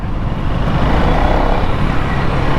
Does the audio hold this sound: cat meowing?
no